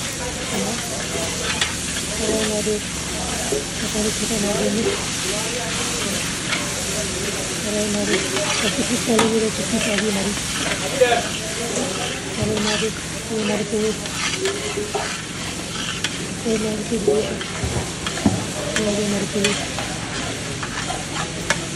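Poha with tomato and turmeric is stirred and fried at a street food stall, a loud continuous sizzle broken by frequent scraping and clanking of a spatula against the pan, with faint voices in the background.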